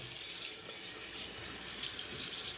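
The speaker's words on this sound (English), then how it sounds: "we're going to add some water to the brush for a little added moisture for our lather" Tap water runs steadily into a sink to wet a shaving brush before lathering soap, a continuous close hiss of flowing water heard alone.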